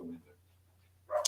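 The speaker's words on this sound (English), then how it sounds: "make the dog stop barking" A dog barks once, close and fairly loud, near the end of a short quiet stretch with a steady low hum; a faint voice is heard at the start.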